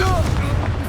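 A Confringo spell explodes in Hogwarts Legacy as a loud, close, deep boom that fills the whole moment, with a short voiced cry mixed in.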